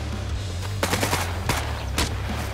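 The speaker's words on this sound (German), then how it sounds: "Zwei Leute schießen auf mich." Gunfire in the survival shooter SCUM, a few sharp shots and a short burst cracking out at moderate distance over a constant low rumbling background.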